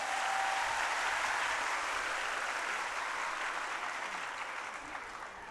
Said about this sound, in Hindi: एक बार आप लोग जोर से तालियां बजा दें